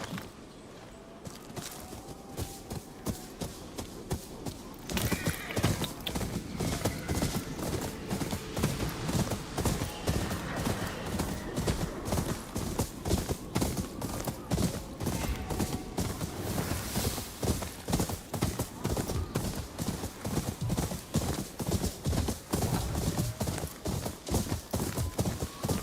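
Horse hooves clip-clop steadily in the Ghost of Yotei video game, a long run of close, regular hoofbeats that picks up after a brief quieter start and keeps a constant walking-to-trotting rhythm.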